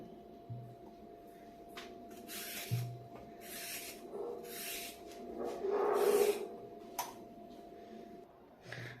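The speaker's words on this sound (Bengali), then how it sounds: "এবার আমি এগুলোকে ছুলে ভালো করে ঘষে নেব" Carrots being peeled for carrot kheer, a series of short scraping rasps in an irregular rhythm, close and fairly clear, with a few soft taps and knocks between strokes and no talking.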